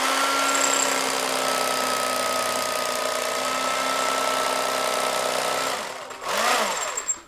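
A power cutter slices through upholstery foam for a camper cushion, a loud continuous whine running steadily before cutting off near the end with a brief final rev.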